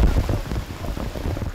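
Heavy rain from Tropical Storm Kong-Rey hisses in a dense, steady roar, with gusty wind buffeting the microphone throughout this short stretch of flooding weather.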